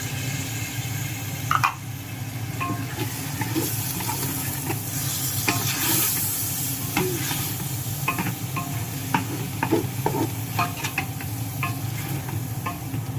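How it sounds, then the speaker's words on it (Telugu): Masala frying in a pan for dum biryani gives a constant close sizzle, with scattered ticks and scrapes of a spoon stirring throughout. "5 నిమిషాలు వేపిస్తానండి"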